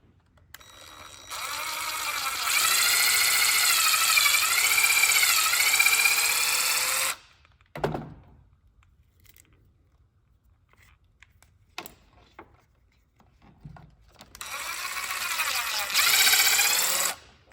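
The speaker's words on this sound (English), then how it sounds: "So you're now gonna bore that open to a 5/16 hole and do it from both sides." A power drill bores a pilot hole in a MultiPro truck tailgate out to 5/16 inch, with two long steady whining bursts separated by a quiet pause and a few clicks and knocks.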